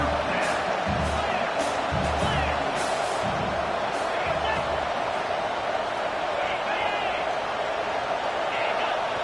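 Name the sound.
loud stadium crowd noise at football game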